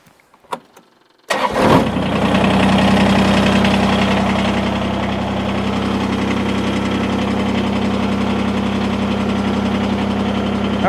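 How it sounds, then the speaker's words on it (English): After a few faint clicks, a tractor engine powering a Woodland Mills WC46 wood chipper cranks and catches, then settles into a steady, loud, rumbling idle that continues to the end. "All right, let's start the tractor up."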